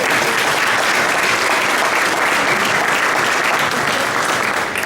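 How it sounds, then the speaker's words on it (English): Audience applause at a Detroit event for the Midnight Golf program, a loud, dense, steady clapping that fills the room without pause and fades only slightly near the end. "Please give them all a round of applause."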